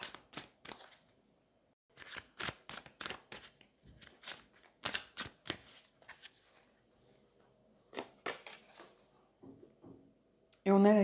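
Tarot cards being shuffled and drawn, a run of crisp riffling flicks and snaps in quick bursts with short pauses, close and fairly loud, ending in a brief louder burst.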